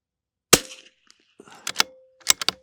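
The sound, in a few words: rifle shots firing Eley Ultra Extreme ammunition at range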